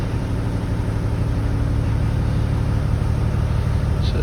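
Caterpillar 315 BL excavator diesel engine idling steadily just after starting, a constant low rumbling drone, close and loud throughout with no change in pitch.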